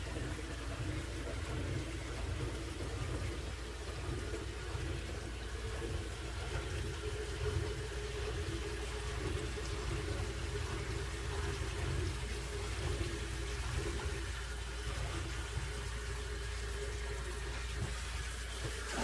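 Water drains from a kitchen sink with a newly fixed P-trap after the plug is pulled, a steady, close rushing and gurgling that runs for the whole stretch with no talking.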